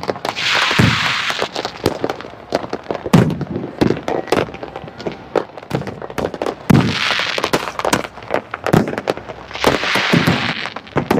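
Firecrackers bursting outdoors at the seaside resort of Digha, a loud irregular string of sharp cracks and pops with denser crackling flurries recurring throughout.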